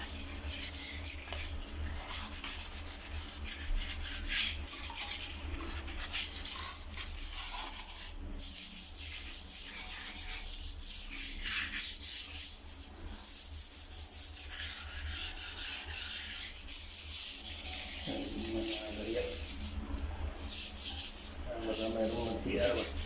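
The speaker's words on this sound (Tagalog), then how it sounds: "so liha na lang gamitin natin" Steady rough scraping of sandpaper scrubbing a toilet bowl clean, a continuous rasping rub that carries on throughout at moderate volume with small shifts in stroke rhythm.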